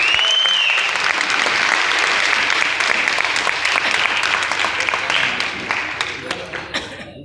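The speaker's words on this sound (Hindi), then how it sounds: "एक बार जोरदार तालियां" An audience at a company training event in India claps loudly and densely to honour an achiever. The applause holds strong for several seconds, then thins out into scattered last claps.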